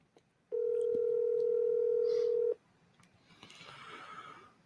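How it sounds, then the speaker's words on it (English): A telephone ring-back tone on a call, one long steady electronic tone lasting about two seconds, loud and alone, followed by faint background rustle. "Let's keep ringing. Let's see what he picks up."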